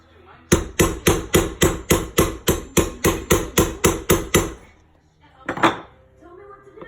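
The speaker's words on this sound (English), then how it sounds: "You put it here and like hammer it until this little pin comes out." About fourteen sharp, evenly spaced metallic hammer strikes ring out as a pin is driven from a KitchenAid Classic stand mixer, followed after a pause by one louder clank and a brief voice.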